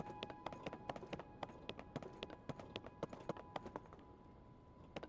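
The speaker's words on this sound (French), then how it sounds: "Bokoblin sur cheval." Rapid, rhythmic clip-clop of hooves as a Bokoblin rides a horse in Zelda: Tears of the Kingdom, a steady galloping patter that slows and fades, then ends in a sudden loud thump.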